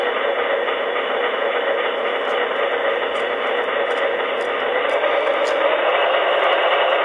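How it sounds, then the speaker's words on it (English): A Broadway Limited Paragon sound-equipped model of a Cotton Belt RSD-15 diesel locomotive releases its shutdown air hiss, a loud, steady, unbroken rush of noise lasting several seconds. "We'll hear the air hiss."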